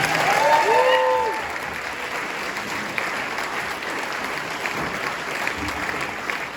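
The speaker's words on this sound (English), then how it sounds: "So another round of applause for Kevin Courtney." An audience at an anti-war meeting in Conway Hall applauds for Kevin Courtney, steady sustained clapping with a short cheer or whistle at the start, holding level to the end.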